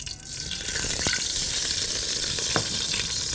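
Ghee sizzles in a very hot pot, a dense steady hiss of frying with a few faint clinks and stirring touches, no talking.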